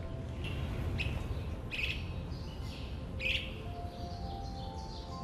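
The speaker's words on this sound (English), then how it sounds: "It was just a red-eyed vireo singing up this way." A red-eyed vireo sings in a city park, its short, bright chirped phrases repeating every second or so over a steady low hum of distant traffic and background noise.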